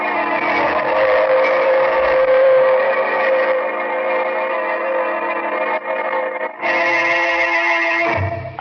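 Subway train rumble used as a sound effect in a radio drama, a loud continuous rolling roar with a brief dip near the end before it surges again, heard alone without talk.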